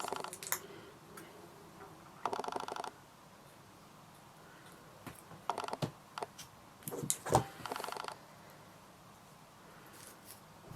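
Scissors snip through the lace of a braided lace frontal wig, giving a few short, crisp clicking cuts in scattered bursts, close and fairly quiet against a near-silent room.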